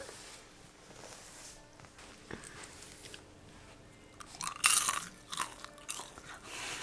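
Homemade oven-baked caramel popcorn gets crunched while eaten, with quiet chewing early on and a few louder, crisp bites clustered near the end.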